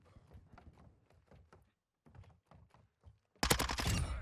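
Minibak submachine gun firing in Modern Warfare 2, quick clusters of short snappy shots with brief pauses, then a sudden loud, dense burst of fire at the end.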